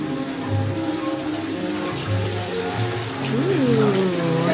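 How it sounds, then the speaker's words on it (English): Small waterfalls trickle and splash inside a mine cave, a steady wash of running water that lasts throughout beneath gentle melodic music. "Little waterfalls."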